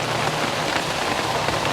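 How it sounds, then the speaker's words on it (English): Steady rain patters densely on an umbrella close overhead in Bangkok, a continuous hiss of drops on the taut fabric with no voices. "because it started raining."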